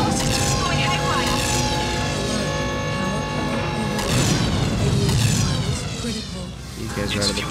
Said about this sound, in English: That missile went off course and hit the station.